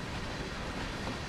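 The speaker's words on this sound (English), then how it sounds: "Alright, quite a long train." CSX heavy haul freight train in Train Sim World rolling along in ice and snow, a steady low rumble of wheels and wagons with faint rail clatter, continuous and fairly quiet with no voices.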